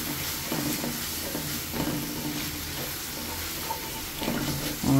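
Sliced onions fry for biryani in a pan over lowered heat, giving a steady soft sizzle while a spoon scrapes and stirs in repeated strokes, close and moderately loud.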